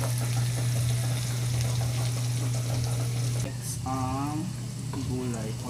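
Ingredients with onion frying in a pan for pancit, giving a dense, loud sizzle with a steady low hum underneath. The sizzle eases partway through, and a voice then speaks briefly over the quieter frying.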